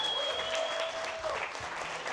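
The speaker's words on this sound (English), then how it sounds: "Y'all give a round of applause for Sonny, please." Short burst of audience applause for Sonny at a live event in Austin, a brief wash of clapping with a faint tone running through it.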